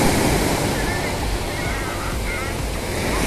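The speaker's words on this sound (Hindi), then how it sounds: "हल्की फुल्की लहरें आ रही हैं" Gentle ocean waves washing onto Patong Beach in Phuket, Thailand, a constant broad surf hiss with wind buffeting the microphone and faint distant voices.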